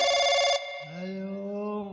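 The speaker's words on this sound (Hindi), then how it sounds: "घंटी जाती है, ले भाई घंटी जाती है।" A telephone bell rings in a short electronic burst, then cuts off as a voice begins.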